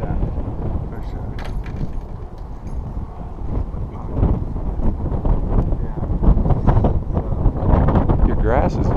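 Gusty wind roars steadily across an open racetrack at Chicagoland, buffeting close to the microphone and growing stronger in the second half.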